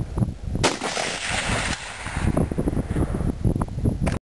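.30-06 rifle firing a Hornady 180-grain round at a 300-yard target outdoors: one loud, sharp blast followed by a rolling boom, set against steady wind buffeting the microphone.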